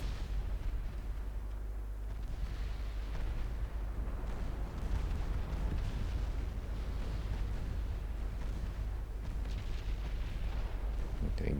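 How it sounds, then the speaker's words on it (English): Battleships trade fire in Ultimate Admiral Dreadnoughts. A dense, continuous rumble of naval gunfire and explosions carries low booms throughout and holds a steady, loud level. "Both battleships again fire at Fidela."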